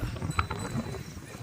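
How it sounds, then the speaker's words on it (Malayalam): Bullocks pull a passenger cart at the Isha Foundation in Coimbatore, their hooves clip-clopping in a quiet, steady patter at some distance, with faint background noise. "കാളവണ്ടിയിൽ ആൾക്കാരെ കയറിയിരിക്കുന്നുണ്ട്."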